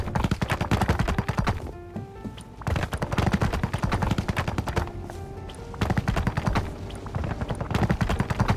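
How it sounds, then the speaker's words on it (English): Rapid automatic gunfire from the Rust video game crackles in dense bursts, loud and near, with brief pauses between volleys and overlapping shots throughout. "nice shooting, Tex."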